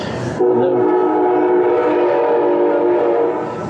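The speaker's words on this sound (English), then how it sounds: "then we'll wait for the train to go by." A loud train passes close by, a sustained heavy rumble with a horn blaring through most of it.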